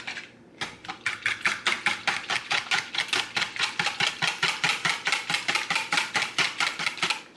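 A whisk beats batter for fried Oreos in a bowl with a rapid, steady scraping rhythm of about four strokes per second, close and loud, running on for several seconds without talk.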